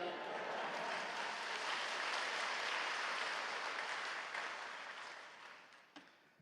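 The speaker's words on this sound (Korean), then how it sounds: "이제 교수님 나오실 때 할렐루야로 하나님께 영광 올려드리고 큰 박수로 맞이하시겠습니다" A congregation at a Yoido Full Gospel Church dawn service applauds to welcome a theology professor to the pulpit, a steady wash of many hands clapping that holds loud and then gradually fades out.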